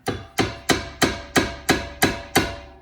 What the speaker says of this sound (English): I want to bang on with a sledgehammer, just a small one.